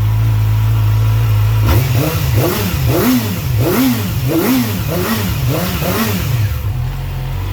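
A 2019 Yamaha YZF R6 sport motorcycle engine idles, then revs hard toward almost 17,000 rpm in a series of rising and falling bursts before settling back to idle.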